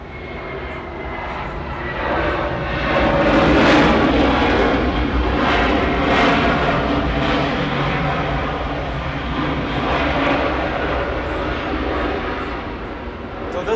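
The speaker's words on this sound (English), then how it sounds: "Frontier over here is heading up here for an 8 right departure" A Frontier Airbus A320neo taxiing out for an 8 right departure at Atlanta, its steady engine roar swelling slightly then holding level, with a person talking over it throughout.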